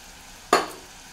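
One brief scrape of a spoon stirring green peas into a sizzling brinjal curry in a pan, a single close swish over a low frying background, with no voice.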